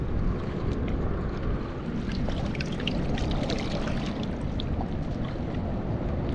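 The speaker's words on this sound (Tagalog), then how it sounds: "Medyo malakas po kasi ang hangin." Strong wind buffets the microphone over choppy water, a loud continuous roar with faint splashes throughout.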